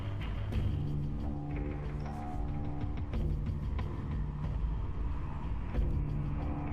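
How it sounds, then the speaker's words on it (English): A bus engine in the video game Silent Hill: Downpour gives a steady low rumble throughout, moderately quiet, with faint clunks and rattles and no talk over it. "Get on the bus."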